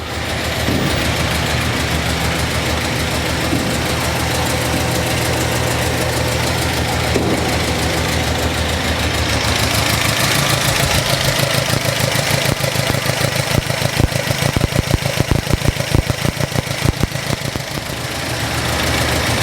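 A car engine idling steadily and close, a continuous loud rumble with a slight rhythmic knock that grows more uneven in the second half, no talking.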